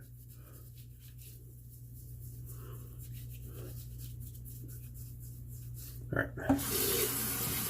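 Straight razor shaving gear rinsed under a running tap at a sink, a short close burst of splashing water near the end after a quiet stretch and a brief spoken phrase.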